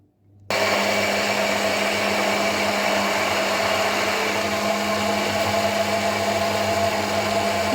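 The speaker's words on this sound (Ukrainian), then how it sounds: "Блендер ставлю саме на жовток і починаю збивати." An immersion blender whipping egg yolk switches on and runs with a steady, loud whirring buzz for several seconds, close up and without pause.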